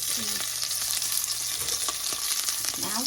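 Rice fries in a pan at home, a dense continuous sizzle with stirring scrapes running through it, close and steady from start to finish with no voices.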